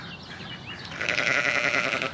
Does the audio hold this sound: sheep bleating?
yes